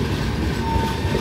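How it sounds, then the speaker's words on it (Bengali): The down Shatabdi Express runs on the main line toward Howrah Junction, a loud, close, continuous rumble of wheels and carriages with no voices. "মেইন লাইন দিয়ে ট্রেনটি হাওড়া রেলওয়ে জাংশন অভিমুখে যাচ্ছে।"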